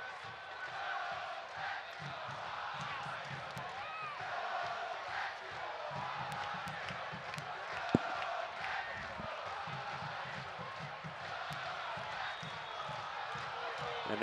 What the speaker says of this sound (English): the Lou City crowd serenading the visitors with chants of "Go back to Ohio."